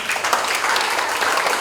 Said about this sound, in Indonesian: Kita beri aplaus untuk Risa.